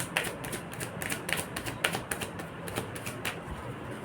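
Tarot cards drawn from a deck, heard as a quick series of crisp, close card flicks and taps that keep up a rapid shuffling rhythm, fairly quiet with no talk over them.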